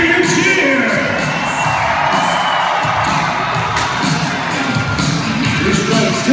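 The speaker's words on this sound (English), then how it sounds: "Let's hear you cheer!" Loud crowd cheering at a full-contact jousting event at an agricultural exhibition in Regina, Saskatchewan, a sustained roar of whoops and shouts, with children's voices mixed in, close and continuous throughout.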